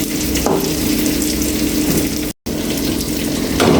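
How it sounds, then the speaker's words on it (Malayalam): Masala with black pepper and fennel powder fries in a pan for a Kerala-style tilapia biryani, giving a steady, loud sizzling hiss that is briefly interrupted once. "ഈ മസാല നന്നായിട്ടൊന്ന് മൂപ്പിച്ചെടുക്കാം."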